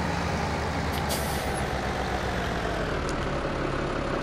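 A tractor in Farming Simulator 17 idles with a steady heavy diesel rumble while backing a trailer, joined by brief hissing bursts, the engine close and constant.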